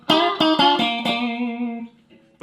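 Stratocaster fitted with GFS gold foil single-coil pickups in the second switch position, with a few quick strummed chords ringing out and sustaining before fading, then a fresh pick attack at the end; no talking.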